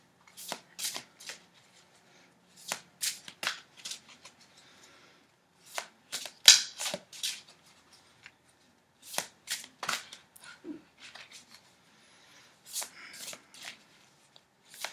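Tarot cards are shuffled close by in short bursts of riffling and flicking, separated by quiet gaps.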